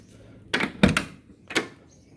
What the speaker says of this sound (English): That's the doors, heavy as hell, all metal.